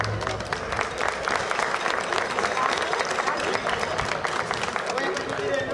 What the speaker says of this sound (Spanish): Un aplauso para Lucano.